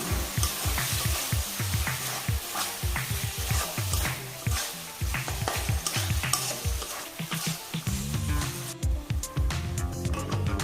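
Chicken curry frying in a pan as chopped tomato and a little water go in, with steady loud sizzling and repeated rhythmic stirring scrapes throughout, no talking.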